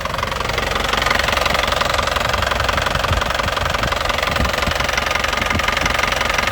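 A 2007 Toyota Kijang Turbo diesel engine runs steadily, its knocking clatter close and constant throughout while the front underside is inspected.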